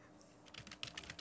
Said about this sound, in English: Type like this that I am typing.